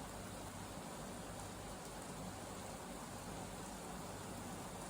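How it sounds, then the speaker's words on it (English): Soft, steady rain hiss fills the background evenly, faint and constant, with no distinct thunder rumble standing out. "it just started raining and thundering like crazy, so you might hear that."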